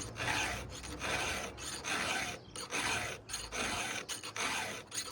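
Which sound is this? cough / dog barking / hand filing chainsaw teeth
hand filing chainsaw teeth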